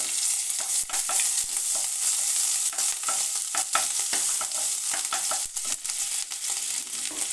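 Chopped ginger sizzles steadily in hot oil in a pan while cooking Murgh Patila, a chicken dish, with repeated sharp clicks and scrapes of a spatula stirring throughout, close and fairly loud.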